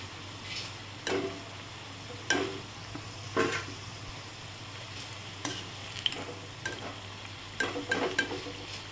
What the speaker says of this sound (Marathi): हे तळून एकदम तयार आहेत. आता याला आपण तेलातून बाहेर काढणार.